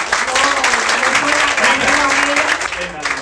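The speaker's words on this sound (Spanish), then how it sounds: "¡Fuerte el aplauso, al rey!" Studio audience applause, steady and loud throughout, with voices and cheering mixed into the clapping.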